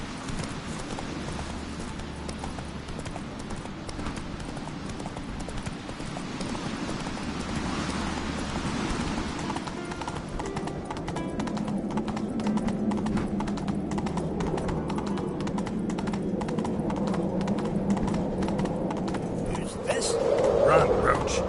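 Roach the horse galloping in The Witcher 3, a steady rhythmic clip-clop of hooves running through the whole stretch under game ambience and intermittent talk.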